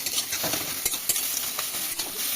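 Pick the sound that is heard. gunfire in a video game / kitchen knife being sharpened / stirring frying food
stirring frying food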